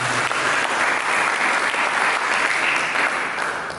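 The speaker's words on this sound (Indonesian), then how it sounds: "Berikan tepuk tangan bagi Yesus." A church congregation applauds together, a dense, steady wash of clapping from many hands that fills the room loudly and tapers slightly at the end, with no voices standing out.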